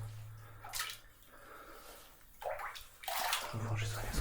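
A drum is lowered into water in an old flooded mine tunnel, producing soft sloshing and splashing bursts that swell toward the end over a low background hum.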